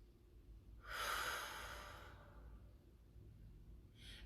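One slow, deliberate breath during a guided breathing exercise, a soft airy exhale of about a second, then quiet, with a faint start of another breath at the end.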